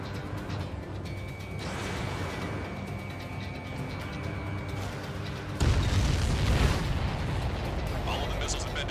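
Missiles blowing apart as they are destroyed in Ace Combat 7, a series of booming blasts over a steady jet-engine drone from the cockpit, with a louder, denser burst of explosions near the end.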